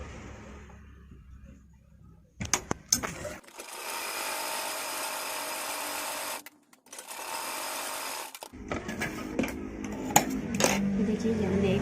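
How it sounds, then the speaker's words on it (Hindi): A sewing machine stitches the fabric of a baby A-line frock in two long steady whirring runs with a short pause between them, close and loud, followed by clicks and handling noise. "तो इसे हम पूरा सिल लेंगे।"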